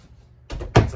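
A medicine cabinet door in the bathroom of a 2020 Sabre 270RL fifth wheel RV swings open or shut, giving a soft knock followed by a sharper, louder thunk close by, with no talking.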